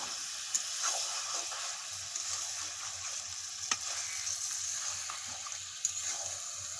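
Chicken and chopped apple fry in a pan while being stirred, a steady sizzling hiss with a few sharp scrape clicks from the spatula, close and alone without speech.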